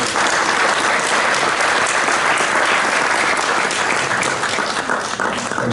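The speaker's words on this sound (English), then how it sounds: "Please give them a round of applause." Loud, sustained applause from a conference audience at a prize-giving ceremony fills the room evenly from start to finish, with no speech over it.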